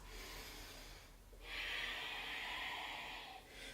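Slow breathing during a morning yoga flow: a soft, steady hissing exhale swells after a quiet pause and holds for about two seconds, close and gentle with no talking.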